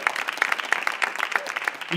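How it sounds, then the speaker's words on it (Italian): A stand-up comedy audience applauding, a moderate, somewhat sparse patter of claps at middling distance, fairly soft overall, with a voice briefly cutting in. "Fatevi un grandissimo applauso"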